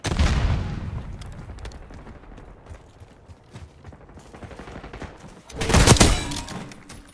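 Call of Duty: Black Ops 6 multiplayer combat: a heavy frag grenade blast opens, followed by scattered thuds and distant gunfire, then a second loud burst of explosion and shots near the end.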